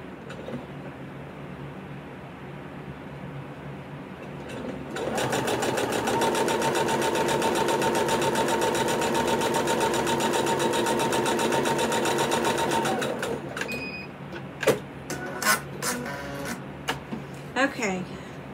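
A sewing machine stitches quilt pieces for an ugly sweater wall hanging, starting up after quiet handling and running loud and steady for about eight seconds before stopping, followed by rustling and clicks.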